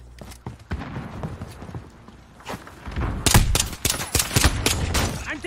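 Gunfire in Call of Duty Modern Warfare multiplayer, with scattered shots giving way to a loud, rapid burst of close automatic fire and repeated sharp cracks.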